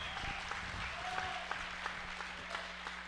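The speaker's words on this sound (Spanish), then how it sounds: "un aplauso para Hilmer" An audience at a café talk event applauds the invited guest, a continuous bed of many hands clapping with a few sharper claps standing out, moderately distant and fairly quiet throughout.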